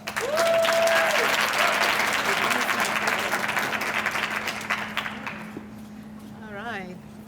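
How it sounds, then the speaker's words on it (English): Audience applause at an innovation day event in Salt Lake City, loud and dense at first, then gradually thinning and fading. A brief tone sounds early on, and a voice starts speaking near the end. "So please give her a great round of applause"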